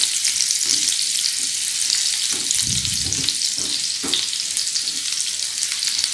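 Garlic and ginger sizzle steadily in hot oil for a prawn 65 dish, a dense bright frying hiss with a few louder bursts of spatter and stirring midway, close and alone.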